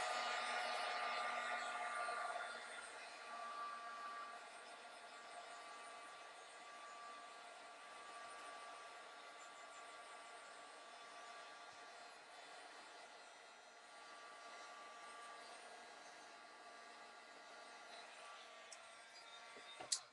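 A heat gun heat-setting ink on a mixed media layout blows a steady, airy whooshing roar for about twenty seconds, loud at first then settling slightly, ending with a couple of small clicks.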